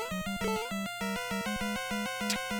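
Chiptune-style music from Super Mario Bros. 2 on the NES, with a steady pulsing bass rhythm and bright tonal melody lines, topped near the end by a brief rising chirp as a spot is marked.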